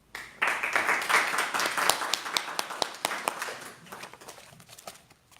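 A church congregation at a Bible study on Genesis 25 claps after a closing word of praise, starting abruptly, building into scattered, sharp individual claps, then thinning out and fading to quiet.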